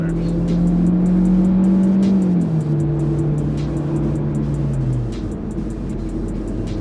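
A 2024 Hyundai Elantra Limited driving in sport mode after a couple of gear drops: a loud, steady engine drone with its pitch stepping down midway as the revs fall, road noise underneath, no talking.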